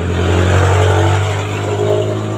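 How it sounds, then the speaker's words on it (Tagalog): Heavy road traffic streams past at Patag, a loud, steady engine roar and tire rumble from many vehicles filling the whole stretch with no voices over it. "Hindi tayo magkaintindihan kasi ang daming sasakyan na dumadaan."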